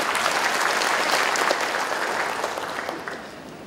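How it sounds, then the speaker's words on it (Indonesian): Dense, loud applause from a crowd at a community meeting, steady clapping that slowly fades over a few seconds. "Tepuk tangan untuk Pertamina"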